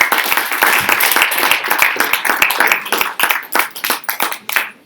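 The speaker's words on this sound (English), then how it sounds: "a round of applause to all of you for sitting through" Audience members at a Brexit panel discussion give a round of applause, with sharp individual hand claps forming a busy, uneven patter that thins toward the end.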